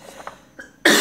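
A person with a cold coughs, starting with a few soft throat sounds and breaths and then breaking into one loud, harsh, close cough that fills the last moment.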